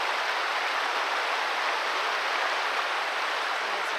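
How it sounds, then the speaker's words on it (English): Small waterfall pouring into a river in a snowy winter landscape, a steady broadband rushing wash that stays even and unbroken throughout, with no voices. "And there's another side of the fall over here."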